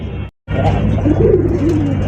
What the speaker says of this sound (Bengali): লোটন কবুতরের কালেকশন আপনারা দেখতেই পাচ্ছেন